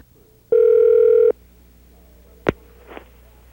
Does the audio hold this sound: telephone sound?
yes